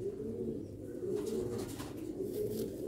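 A young Sialkoti black-faced pigeon coos close by, soft low rolling calls repeating continuously over a few seconds.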